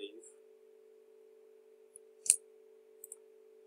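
A single crisp computer mouse click, short and close, over a steady low electrical hum with a few faint ticks before and after.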